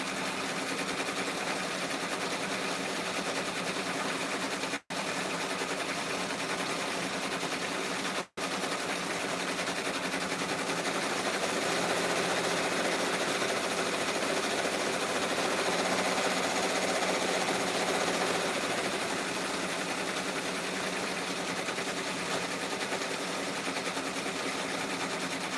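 An embroidery machine stitches in a steady, continuous mechanical whir with a rapid needle patter. It runs unbroken at an even level, with two very brief cut-outs near the start, and no voices are heard.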